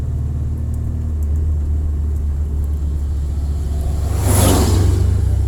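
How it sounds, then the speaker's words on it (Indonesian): A truck labors up a steep, sharply winding village road, its engine rumbling low and steady before a louder whooshing pass swells nearby toward the end. "Kita lihat tadi truknya saja begitu susah merangkak."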